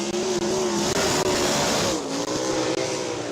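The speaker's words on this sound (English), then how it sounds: "Logan Seavey on track now at Sutter" A USAC sprint car roars around the dirt oval at Eldora Speedway, its engine loud and sustained with a droning pitch that rises and falls through the corners.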